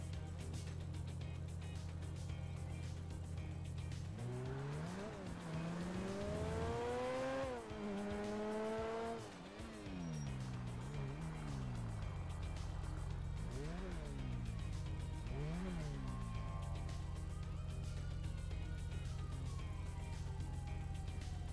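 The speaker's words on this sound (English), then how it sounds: "Somebody smashing down the road there with their sirens on." Police car sirens wail repeatedly in GTA 5 gameplay, rising and falling sweeps over a steady low engine drone and background music, with sharp squealing tire tones and a car racing down the road.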